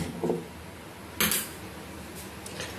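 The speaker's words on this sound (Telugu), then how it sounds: "ఇది బాండి పెట్టి గ్యాస్ వేస్తున్నాను." A pan, a bandi, is set down on a gas stove while palm-fruit sweet roti is being prepared, giving two brief, faint metallic clanks about a second apart in a quiet kitchen, with no talking.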